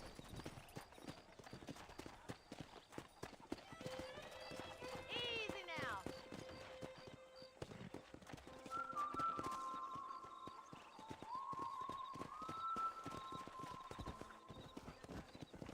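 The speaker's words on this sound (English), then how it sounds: "there's a pack of wild horses nearby" Steady clip-clop of horse hooves in the video game Red Dead Redemption, with a horse whinnying partway through, under music and someone speaking briefly.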